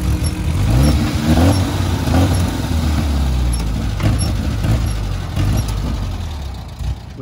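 The engine of a RZR buggy that keeps stalling is cranked, a loud, close, rough, sputtering motor sound that rises and falls without catching and fades slightly at the end.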